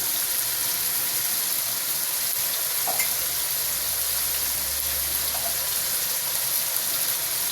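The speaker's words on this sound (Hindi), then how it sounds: "ये 3 से 4 मिनट हो गए हैं टमाटर को मसाले के साथ भूनते हुए" Tomatoes frying with spices in a pan, a steady close sizzle with soft crackle throughout, no talking.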